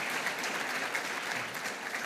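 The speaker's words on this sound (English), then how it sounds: "you can applaud a little more than that for Yellowstone" A room full of people applauding at a church sermon, a dense, even wash of clapping heard up close and sustained without pause.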